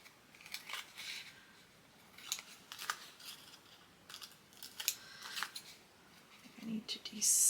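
Scissors trimming paper edges for a dinosaur-themed junk journal, a series of soft, quick snips and paper rustles at close range, with faint whispering in the background.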